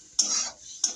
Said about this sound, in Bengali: দইটা দেওয়ার পর তার আবার ভালো করে নেড়ে চেড়ে দিচ্ছি।